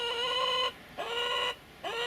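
Hens on a small farm by their new chicken hutch in the early morning, drawn-out tonal clucking calls, three in a row with short breaks, fairly close and otherwise quiet.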